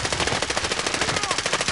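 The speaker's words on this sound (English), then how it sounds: "I'm getting shot from the right hand side" Rapid automatic gunfire in a Warzone battle royale video game, a dense, loud, evenly spaced burst of shots filling the whole moment without pause.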